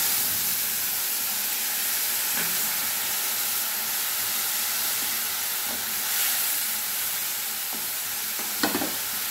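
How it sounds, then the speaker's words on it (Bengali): Ground spice paste with turmeric, Kashmiri chili powder and salt sizzling in hot oil in a pan, a steady dense hiss throughout with a few faint clinks and stirring scrapes, no voices. "এবারে বাটা মশলাটা দিয়ে খানিকটা সময় আমি কষিয়ে নেব"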